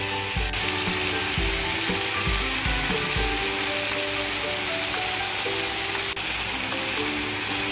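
Teri Medan anchovies stirred with noni flowers in a hot pan sizzle steadily, with a soft dry scraping and clatter of the spatula near the start and no talk.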